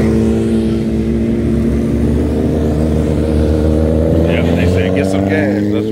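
Several motorcycles, including sport bikes such as a Suzuki 1000, rumble in at an evening street meetup in Washington, DC, a steady loud engine drone with rising revs and a brief throttle blip near the end, and people talking over it.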